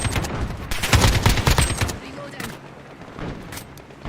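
Gunfire from an RPK machine gun in a Call of Duty: Modern Warfare trailer, a loud, rapid automatic burst lasting about two seconds that tails off into quieter, scattered sounds, with a voice speaking at times.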